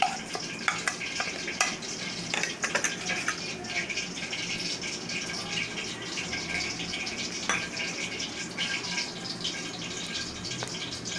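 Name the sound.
meat with stuffed chillies frying in pan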